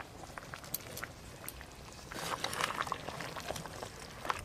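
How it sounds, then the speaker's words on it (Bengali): Curry broth for katla fish kalia with potatoes boils in a pot, a soft continuous bubbling with small popping pops, close but quiet, growing slightly fuller partway through. "ঝোল একদম টকবকে হয়ে ফুটে গেছে"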